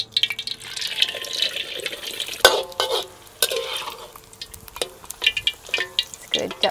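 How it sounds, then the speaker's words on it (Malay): Eggs frying in a pan for a roadside-style village fried rice, with steady sizzling and crackling broken by sharp scraping and stirring clatters, close and fairly loud. "Jom kita goreng telur."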